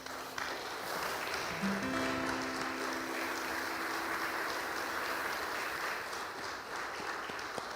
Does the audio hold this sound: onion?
no